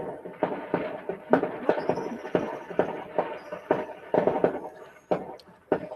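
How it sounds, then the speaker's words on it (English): Fireworks set off outside in Amsterdam, a string of sharp pops and bangs in irregular bursts, moderately distant and muffled, with faint background voices. "someone is firing fireworks outside"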